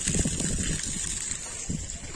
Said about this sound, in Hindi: पानी लीक हो रहा है